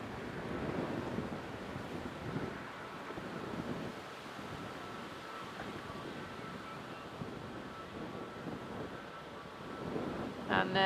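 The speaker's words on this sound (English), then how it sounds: "That wind is really strong at times now" Strong, gusting wind buffets a microphone on an airport apron at Manchester Airport, a steady broadband rush rising and falling in pushes throughout, with a faint tonal hum in the background.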